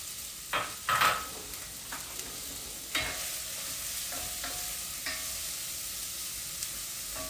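Onions hit warm olive oil in a chili pot with a bright, continuous sizzle, preceded by a few sharp clatters and stirring knocks as they are added and spread.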